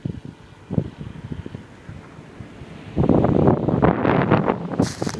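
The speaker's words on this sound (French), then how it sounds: "Il y a un peu de vent comme je vous le montrerai tout à l'heure." Wind buffeting a microphone outdoors beside an ultralight airfield near the ocean, soft gusts at first then a louder, rougher rumble of blustery noise in the second half.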